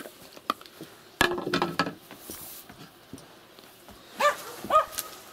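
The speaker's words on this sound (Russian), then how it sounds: "Почему он лает?" A yard dog on its morning outing gives a few sharp, loud barks in two short bursts, near the listener, separated by quieter stretches of rustling and small knocks.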